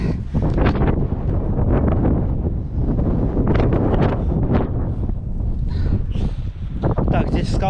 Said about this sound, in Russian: здесь в скалах не такой сильный ветер